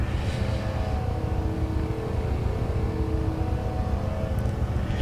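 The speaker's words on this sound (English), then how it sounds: "Come on then, Corvette. What have you got? Other than a nice rumbly V8." A Corvette V8 rumbles in the racing game RaceRoom at the Red Bull Ring, a steady, loud, low engine drone that holds throughout without pause.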